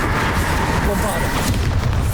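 A Bombarda blast spell from Hogwarts Legacy on Switch produces a dense, rumbling explosion that keeps booming loudly across the whole moment, with crackling debris layered on top.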